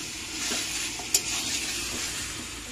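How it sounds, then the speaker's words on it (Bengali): Chicken pieces tipped into spiced masala frying in oil in a pan give a steady close sizzle, with a brief sharp spike as the meat hits, then continuous frying hiss. "এবার চিকেনটা ঢেলে দেব। তো দেখো চিকেনটা দিয়ে দিয়েছি।"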